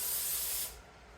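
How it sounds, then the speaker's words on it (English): Cooking spray hisses into a one-cup measuring cup in a home kitchen, a single close, steady spray lasting over half a second before tapering off. "I got out some spray so I can spray this"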